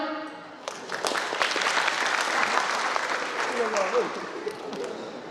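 Audience applause at a comedy show in Aceh: dense clapping rises after a brief lull and holds steady and loud, with scattered cheers and voices mixed in.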